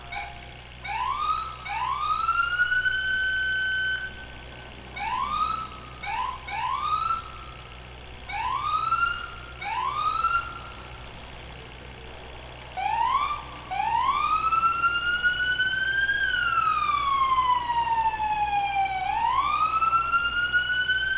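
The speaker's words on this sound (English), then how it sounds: "See why I'm kind of cutting the siren off and on?" An emergency vehicle siren in the video game EmergeNYC, repeatedly cut off and restarted in short rising whoops, then held as a long steady wail rising and falling, loud and close over a low engine hum.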